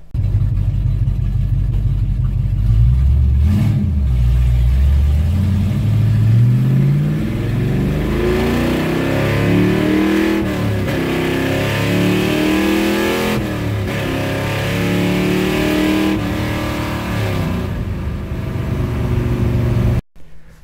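A Mustang II car engine runs and revs for about twenty seconds, its rising and falling pitch sweeping through repeated revs up close, loud and steady with no talking.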